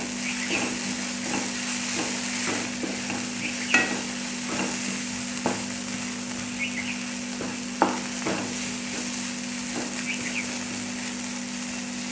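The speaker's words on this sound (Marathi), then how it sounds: "हे सगळं मिक्स करून घ्यायचं आहे." Egg bhurji masala of tomato and spices fries in a pan with a constant sizzle, while a spatula scrapes and taps at irregular intervals, some strokes louder than others, up close and without speech.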